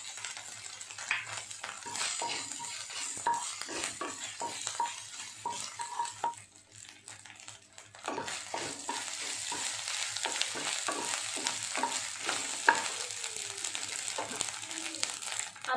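Spices and green chillies stir-fry in a pan with a close, busy sizzle and repeated spatula scrapes and clinks against the metal, dipping briefly into near quiet midway before resuming.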